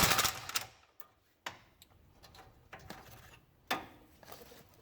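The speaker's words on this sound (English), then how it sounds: "we can go ahead and just run this nut all the way off" A nut is spun off a ball joint stud with a swivel tool, giving faint ratcheting ticks and a few sharp clicks and clanks in short bursts, close by with quiet gaps between.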